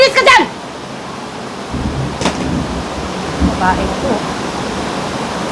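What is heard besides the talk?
heavy rain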